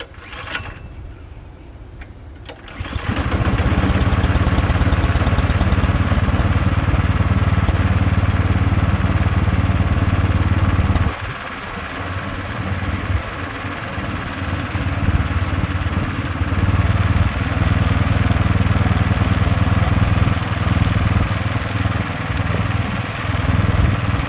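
Craftsman snowblower engine running steadily after start-up, a loud continuous mid-pitched drone with a brief quiet stretch at the start and a slight dip in pitch partway through, no voices.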